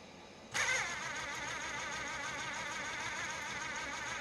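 An electric-conversion car motor on first test at barely any throttle: a sudden onset, then a steady whining hum with warbling tones that holds evenly throughout, close and fairly loud.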